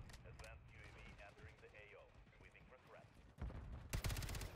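Gunfire from an FJX Horus gun in a first-person shooter video game arrives as a loud burst of rapid shots near the end, following quieter game sounds and background voices.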